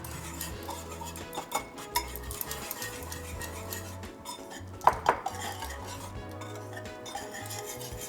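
Spices such as turmeric, red chili, coriander and cumin powder being mixed in a bowl for eggplant fritter batter, with repeated light clinks and scrapes of a utensil against the dish over a faint background.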